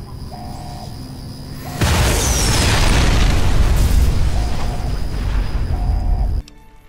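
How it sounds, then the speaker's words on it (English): Orbital laser bombardment in Fallout: New Vegas: after a soft tonal hum, a sudden massive explosion erupts into a long roaring rumble with debris noise for several seconds, then cuts off abruptly. "Orbital laser bombardment with guns in T-minus 5, 4, 3, 2."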